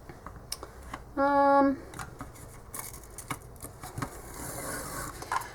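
A strip of tape pulled off its roll in one short ripping burst to fix watercolor paper flat, followed by light taps and rustles as it is pressed down, with a person talking nearby.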